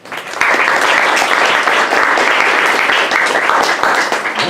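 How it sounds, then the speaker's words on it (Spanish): A lecture audience at a university breaks into sustained applause, dense steady clapping that starts abruptly and holds loud and even throughout with no talking over it. "Ahora sí el aplauso es bienvenido."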